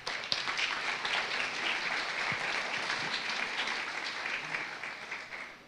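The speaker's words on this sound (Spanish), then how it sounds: "¡Un aplauso!" A church congregation applauds warmly for several seconds at a Sunday service, a dense, steady wash of clapping from many hands that tapers off at the end.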